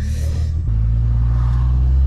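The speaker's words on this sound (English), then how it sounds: "Rambler test drive" Engine of a 1966 Rambler 770 Classic car on a test drive, a steady low rumble that steps up in pitch as it shifts or accelerates partway through, loud and close with no talk.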